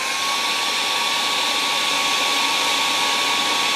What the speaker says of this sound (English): we'll give it a spin with a hairdryer